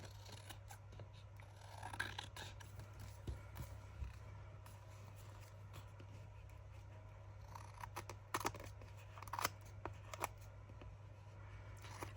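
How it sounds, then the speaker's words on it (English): Quiet, irregular snips and crisp rustles as scissors work through paper, close up, over a low steady hum. "we're going to get our scissors and go along and hopefully cut straight"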